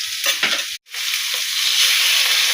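Dried red chillies, bay leaf and panch phoron spitting and frying in hot oil, a steady close sizzle with brief stirring scrapes and a short cut in the sound near the start.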